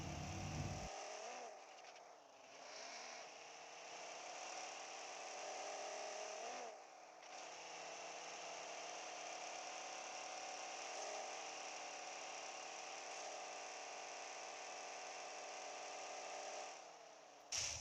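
A Honda Civic RS Turbo engine in PUBG Mobile hums steadily at a sustained whirring pitch, with brief rev changes early on, continuous and fairly quiet throughout.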